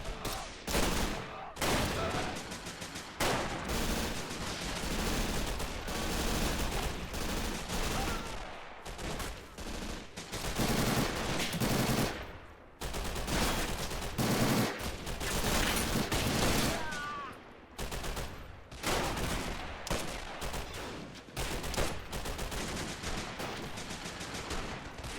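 Sustained automatic and rifle gunfire crackles in a World War II fort siege battle game, with dense overlapping volleys and short pauses over a long stretch and occasional voices underneath.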